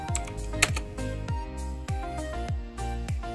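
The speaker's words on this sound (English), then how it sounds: "type in the command I'm typing right now" Keystrokes on a computer keyboard as network commands are typed in, a quick uneven run of close, crisp clicks with brief pauses between bursts, no voices.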